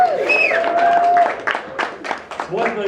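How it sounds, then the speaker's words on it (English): Wedding guests at an Indian wedding clap after a speech, a short spell of crowd applause rising beneath a speaking voice and continuing as a moderately loud patter. "we can have a bit of a clap"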